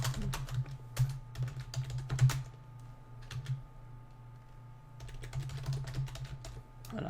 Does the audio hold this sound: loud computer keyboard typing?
yes